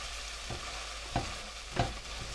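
Garlic frying in a pan for marinara sauce gives a steady low sizzle, broken by three soft stirring scrapes and spoon taps spaced out across the stretch.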